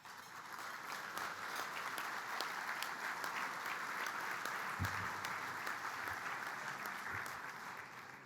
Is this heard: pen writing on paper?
no